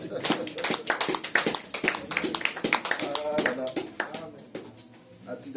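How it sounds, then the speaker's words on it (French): A church congregation applauds for Jesus, a steady run of hand claps and taps lasting several seconds while a preacher speaks over it. "Acclamez pour Jésus."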